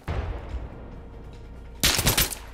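Bursts of automatic gunfire in the shooter game Insurgency: Sandstorm: a rattling volley at the start, a lull of lower background combat noise, then a louder, close, sharp burst near the end.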